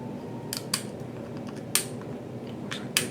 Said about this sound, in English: Now we move on to cutting off the guns.